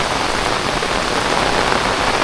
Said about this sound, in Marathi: बराच पाऊस पडतोय